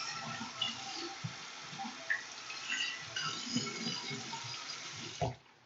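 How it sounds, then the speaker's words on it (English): Tap water runs steadily into a sink while hands are rinsed under it, a soft continuous splashing with small changes as the hands move, then stops abruptly. "Then I'm going to rinse them off."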